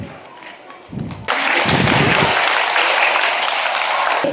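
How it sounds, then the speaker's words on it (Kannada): An audience at a government primary school event in Mulbagal welcomes guests with loud, sustained clapping that swells in abruptly after a short stretch of voices and continues dense and close. "ಜೋರದ ಚಪ್ಪಾಳೆಯನ್ನ ತಟ್ಟುವುದರ ಮೂಲಕ ಗಣ್ಯರನ್ನು ಸ್ವಾಗತಿಸೋಣ"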